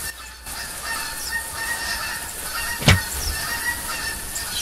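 Geese honk repeatedly in the hunting video game theHunter 2015, a steady nearby chorus broken by one sudden sharp loud sound.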